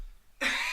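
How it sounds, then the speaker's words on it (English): A single harsh cough bursts out after a brief near-silent pause, loud and close, then rasps on for a moment. "Hang on, I got a cough."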